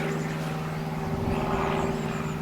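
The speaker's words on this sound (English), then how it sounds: "Please excuse the plane that's now flying over." An airplane flying over a garden in July, heard as a steady, droning engine rumble that stays constant throughout, moderately loud and with no talking.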